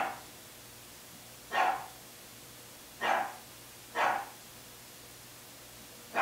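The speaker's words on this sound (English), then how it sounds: "So he's not going to stop barking until PRISS gets in the house." A dog barks four times at uneven intervals, the barks sounding somewhat distant against a quiet background hum.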